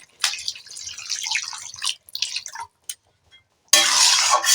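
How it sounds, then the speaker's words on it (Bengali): Water is poured into a pan of sautéed potatoes and kohlrabi for a Bengali fish curry, with splashing bursts, brief gaps, then a steady close pour at the end. "এবার দিয়ে দেব জল"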